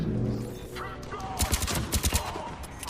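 Gunfire in the video game Mass Effect 3, a quick burst of rapid shots cutting through ongoing game noise, with no voices.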